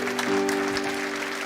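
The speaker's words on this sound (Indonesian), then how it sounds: "Tepuk tangan." Applause from a church congregation during a sermon, a dense wash of clapping that fills the short moment, with a sustained tone from the sound system or music running beneath it.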